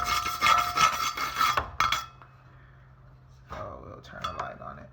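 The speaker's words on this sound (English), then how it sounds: "I'm going to scrub off a little bit real quick by brushing it" Brown slag is scrubbed off welded headers with a brush, producing close, harsh back-and-forth scratching for about two seconds, then quieter brushing as someone speaks.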